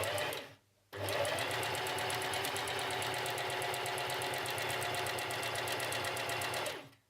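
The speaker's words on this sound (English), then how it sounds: "Put the elastic about 1/3 in and start sewing." Sewing machine stitching elastic onto a fabric wrist cuff hums in a fast, steady, rapid rhythm, close and clear, after a brief pause near the start, running continuously for several seconds before stopping, no talk.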